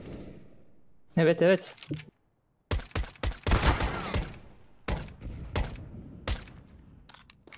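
Gunfire from a Counter-Strike: Global Offensive match comes in loud clustered bursts and single shots, with players talking over and between the shots.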